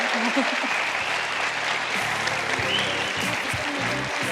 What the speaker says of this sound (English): a big round of applause for our fantastic panel tonight